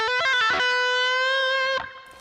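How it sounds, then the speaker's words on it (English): A distorted electric guitar plays a quick run of pull-offs, a few rapid notes falling into one ringing sustained tone that holds for over a second before it is choked off, with no talking. "And pull-offs."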